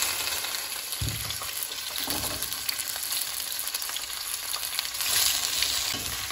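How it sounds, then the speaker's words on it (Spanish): Cecina meat frying in about four teaspoons of oil in a pan, a steady close crackling sizzle with a few soft stirring bumps throughout. "lo que vamos a hacer es sofreír nuestra carne, a freír nuestra carne"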